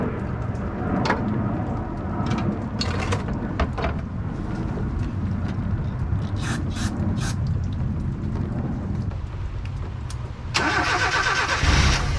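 A Mazda B2000 pickup truck engine, running on fuel that is over ten years old after brake cleaner was sprayed into the intake, cranks and then runs with a loud, steady rumble close by. The engine note rises sharply near the end.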